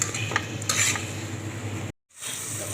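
Water spinach (kangkung) hisses and crackles as it is stir-fried in a hot pan, with a utensil scraping and clinking before a brief gap, then the sizzle resumes.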